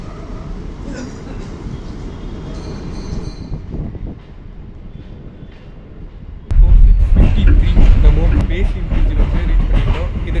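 A suburban MEMU electric train from Avadi to Chennai Central rumbling along the tracks, heard from inside, with clattering wheels and a sudden surge to a loud roar partway through.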